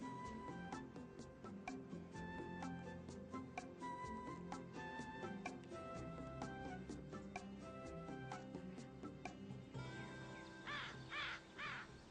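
American crows calling from a social flock, harsh caws scattered throughout over a busy background of other bird chatter, with a louder burst of calls near the end.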